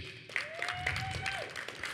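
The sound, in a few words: applause from graduation audience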